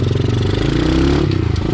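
A mini motorbike engine, just repaired after a nail punctured its tyre, runs close by with a loud, rapid, throbbing putter, steady for a couple of seconds.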